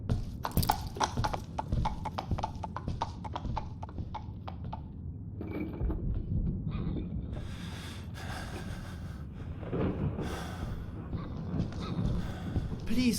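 Steady clip-clop of horse hooves at a walking pace in the PC game Gamebook Edgar A. Poe: The Oval Portrait, with snorts and heavy breathing mixed in and some voices underneath.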